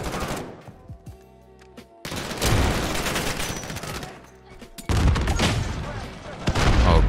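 Video game sniper rifles with glitched iron sights fire in loud, close bursts amid a busy match, sharp cracks and rapid gunfire filling the scene between brief quieter gaps.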